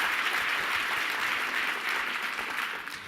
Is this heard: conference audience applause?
yes